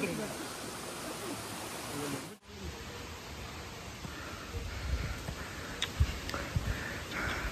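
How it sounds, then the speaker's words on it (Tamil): Steady rushing water from a waterfall and stream on Agathiyar hills fills the background, broad and constant, with a few footsteps and small knocks nearby. "அருவியோட ஓசை, குருவி கத்துது,"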